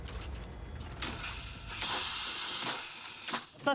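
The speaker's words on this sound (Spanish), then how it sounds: "Ruge como un monstruo y escupe vapor." A steam locomotive lets out a loud, close blast of hissing steam that runs almost continuously for nearly three seconds, briefly easing a couple of times before one last surge.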